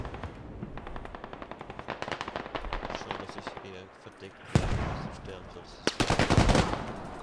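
Gunfire in the video game Squad rattles in rapid automatic bursts, then heavier loud volleys crack close up, with voices talking over the shooting.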